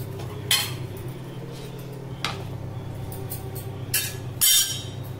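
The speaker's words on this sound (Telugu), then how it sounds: "ఇప్పుడు ఎగ్ ఆమ్లెట్ని కట్ చేసుకుందాం" A knife cuts an egg omelette in a metal pan, giving a few sparse clinks and scrapes against the pan over a steady low hum.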